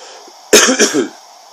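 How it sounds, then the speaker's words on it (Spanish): One short, sharp cough, a quick double burst close to the microphone against a quiet background. "Pido perdón por la tos aquí en Israel."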